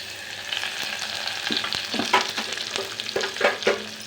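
Onion and tomato frying with cumin in a pan for a home-cooked Maharashtrian curry, a steady sizzle broken by several sharp stirring scrapes and spatula knocks, close and fairly loud.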